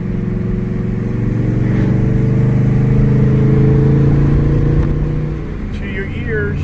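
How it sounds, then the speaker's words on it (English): A Camaro Z28's V8 exhaust drones steadily while driving, a loud, deep, continuous note that swells slightly and then eases off as the car rolls along. "Good old exhaust note."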